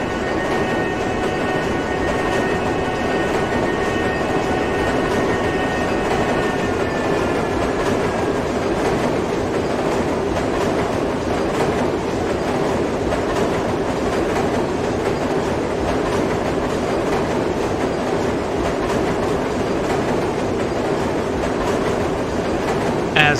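Minecraft MTA IRT subway train running along the elevated line, a steady loud rumble with a rhythmic clatter of wheels, and a high whine that fades out early before the roll continues evenly.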